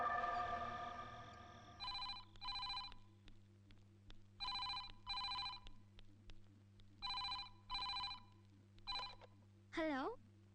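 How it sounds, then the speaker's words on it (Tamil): A telephone bell rings in repeated double bursts, fairly close and clear, with a brief voice at the start and a short vocal sound at the end. "ஃபோன்."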